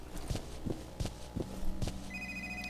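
A telephone rings in a few short repeated bursts over a horror game's ambient drone, with footstep-like thumps and a steady electronic tone entering near the end.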